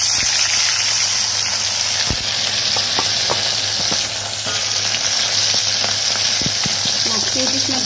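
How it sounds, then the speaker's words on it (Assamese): Turmeric-and-salt-rubbed fish frying in hot oil in an iron wok, a loud, continuous close sizzle with occasional soft knocks and scrapes, no speech. "তাৰ পিছত মই এই নিমখ হালধি সানি থোৱা ভাঙুন মাছখিনি ফ্ৰাই কৰি লম।"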